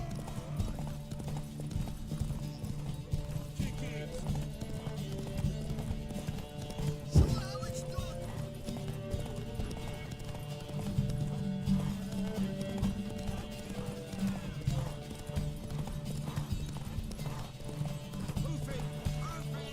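A horse gallops at a steady pace in a race in The Witcher 3, its hoofbeats clip-clopping continuously for a long stretch beneath background music, with occasional whinnies and voices talking over it.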